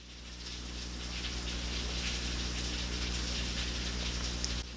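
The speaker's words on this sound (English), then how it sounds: "Can you hear that rain?" Steady rain falls outside, a continuous soft hiss of drops on surfaces that holds even and fairly faint throughout, with no voices.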